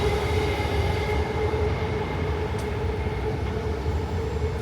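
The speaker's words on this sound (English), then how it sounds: "Okay, yeah, I can hear a train leaving." A Singapore MRT train pulls out of a station, a steady loud rumble of wheels and motor with a sustained tonal hum, continuous and close throughout.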